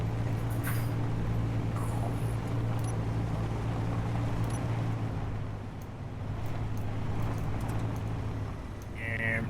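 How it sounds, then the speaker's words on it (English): A hovercraft in Space Engineers hums with a steady low engine drone and windy rush, holding evenly throughout with faint clicks on top and no talk over it. "This is my hovercraft"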